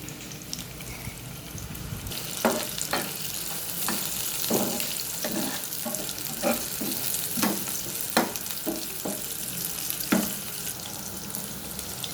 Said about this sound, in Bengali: তেল দিয়ে দিলাম এর মধ্যে পেঁয়াজ রসুনটা দিয়ে দিলাম